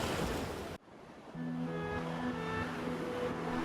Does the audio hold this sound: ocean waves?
yes